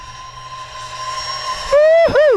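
A Freewing F-18 90mm RC model jet flying on an Admiral 6000 LiPo pack gives a steady high turbine-like whine that swells into a loud close pass, its pitch sweeping sharply down and back up as it goes by.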